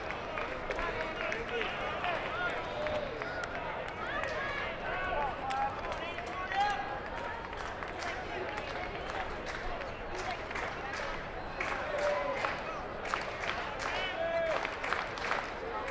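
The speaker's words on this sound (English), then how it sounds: "Texas crowd has become energized" A Texas baseball crowd claps and cheers in a steady, moderately distant swell, with a commentator talking over it.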